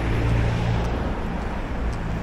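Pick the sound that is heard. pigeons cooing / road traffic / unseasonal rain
road traffic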